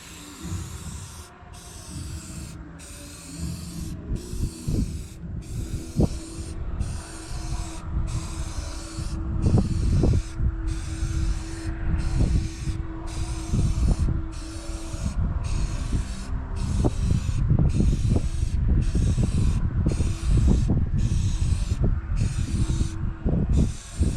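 Spray gun painting murals on an Aerodyne cabover truck, a steady continuous hiss running close and fairly loud for the whole stretch, with faint handling noises underneath.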